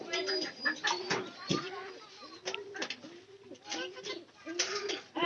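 Two pigeons coo close by in repeated soft, throaty phrases with a steady rhythm, alongside faint rustling and knocks, while a person talks over them.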